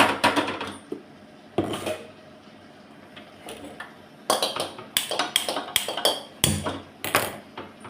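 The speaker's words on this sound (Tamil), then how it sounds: "இப்போ நான் ஒரு கடாய் அடுப்பில் வைக்கிறேன்." A metal kadai is set on the stove while temple-style tamarind rice is being prepared. Several sharp clanks and knocks ring out in separate bursts with quiet gaps between them.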